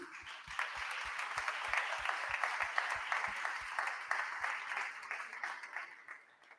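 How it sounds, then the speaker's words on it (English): Audience applause fills a hall at the grand final of the 2023 Ocean pitch challenge, a sustained wash of many hands clapping at moderate distance, steady for several seconds before thinning out toward the end. "Maybe we can give them a round of applause"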